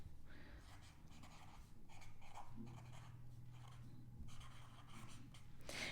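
Pen scratching across paper in a series of continuous strokes, steady and close, with a low hum underneath and no talking.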